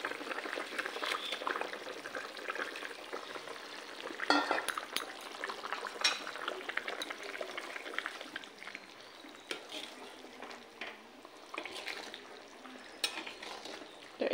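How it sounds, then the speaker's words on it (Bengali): Fish curry broth with potatoes bubbling in a pot on a home stove, a steady soft simmer with occasional clinks of a utensil against the pot, heard up close and alone without talk. "ওটা কষিয়ে জল দিয়ে আলুটা দিয়েছি, আর ঝোল ফুটে গেছে, এখন মাছটা দিয়ে দিব।"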